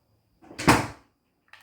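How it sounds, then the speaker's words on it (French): A single short thud-like creak of a door opening or closing in a video game, one brief burst standing alone in near silence. "La porte."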